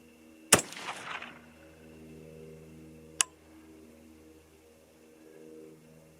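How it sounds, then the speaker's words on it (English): A 6mm ARC rifle loaded with 80-grain Sierra ammunition fires one loud, sharp shot with a brief ringing tail. About three seconds later comes a short, sharp crack, all over a steady low hum. "Here we go, 3 shots."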